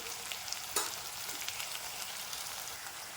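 Tomatoes with salt and turmeric sizzle steadily in a hot pan, a close, continuous crackle with a brief louder stir partway through.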